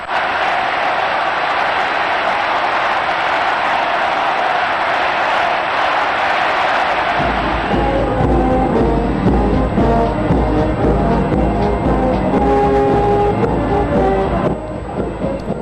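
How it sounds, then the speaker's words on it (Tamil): A large crowd gathered for the election of Pope Francis roars continuously in distant, wash-like cheering, later overlaid by music-like tones and steady crowd noise. "அப்போது அங்கு கூடியிருந்த மக்கள் ஆரவாரம் எழுப்பி தங்கள் மகிழ்ச்சியை வெளிப்படுத்தினர்."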